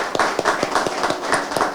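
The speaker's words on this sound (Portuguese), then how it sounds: "uma salva de palmas então aos nossos cantores dessa noite" Clapping for the evening's singers at an ADHONEP dinner, with sharp, rhythmic hand claps at an even pace that sound like a small group nearby, with a faint murmur of voices underneath.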